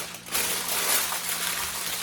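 Heavy duty aluminum foil is wrapped tightly around a rack of smoked baby back ribs, making a continuous close, loud crinkling rustle with no talking.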